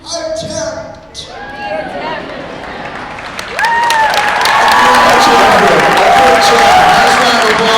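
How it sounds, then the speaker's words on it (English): Crowd at a unified basketball tournament bursts into applause and cheering after spoken words, the clapping swelling louder and filling the hall until the end. "Nice round of applause for Andrew and Becca."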